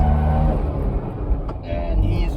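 Small Fiat 500 engine droning steadily while driving, a continuous low rumble heard from inside the tiny car, with no talking over it.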